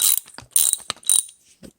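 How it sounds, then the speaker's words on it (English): Ratchet loosening a nut on the bottom of a lawn mower carburetor, three quick close bursts of clicking pawl teeth followed by a short soft knock. "Loosen this nut on the bottom."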